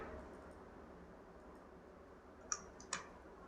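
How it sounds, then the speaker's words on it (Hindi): An Enter key is pressed on a computer keyboard, giving two crisp, faint clicks close together against a steady background hiss. "और एंटर बटन प्रेस करेंगे।"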